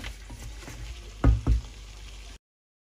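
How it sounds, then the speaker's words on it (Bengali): Chicken is sautéed in a pan with a little water added, giving a steady close sizzle with a couple of loud knocks from a spoon against the pan before it cuts off. "তো এখন অল্প অল্প পানি দিয়ে দিয়ে এটাকে কষাতে হবে"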